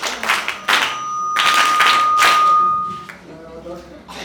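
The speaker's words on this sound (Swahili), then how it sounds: "Wapigeni kwa makofi." Several bursts of hand clapping from a small group of young confirmation candidates in a church gathering, rising and fading in short waves, with a voice speaking at the end.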